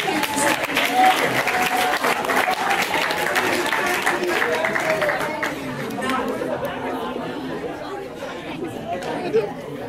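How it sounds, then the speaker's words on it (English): Steady round of applause and clapping from a school audience at an all-night senior party hypnotist show, loud and sustained throughout, with crowd chatter and cheering mixed in. "Give them a nice round of applause, both of them, please."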